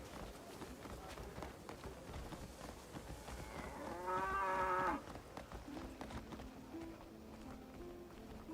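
Cows in the video game Crimson Desert, a single long, drawn-out moo rising over faint game ambience and footsteps, fairly quiet and in the middle distance.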